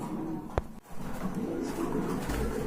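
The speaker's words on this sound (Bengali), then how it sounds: "তো আপনাদেরকে কবুতরগুলো দেখাই" Pigeons at a pigeon market, including a pair of Indian Bombai pigeons, give soft cooing over a busy low background murmur, with one sharp brief knock near the start.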